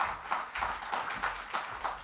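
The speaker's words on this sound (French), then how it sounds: "on peut évidemment l'applaudir" Audience at a Restos du Cœur public event applauding a guest's arrival, a soft, distant patter of claps in steady bursts, fairly faint.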